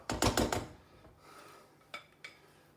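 A spoon scrapes hot cooked contents out of a pot into a bowl: a quick run of clattering metal scrapes, then quiet, then two lighter taps and scrapes, close and fairly soft with no talking.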